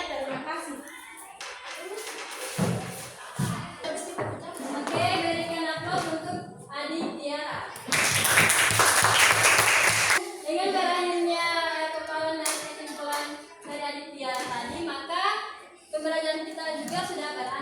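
Students in a seventh-grade Islamic studies classroom break into a burst of clapping lasting about two seconds midway, surrounded by a teacher and children talking before and after.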